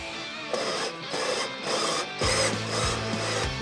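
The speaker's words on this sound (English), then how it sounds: "And you just drill it out." A 2-inch hole saw drills out a vent hole during a heater install on a Polaris General, giving a steady rasping grind in bursts that grows louder and heavier toward the end.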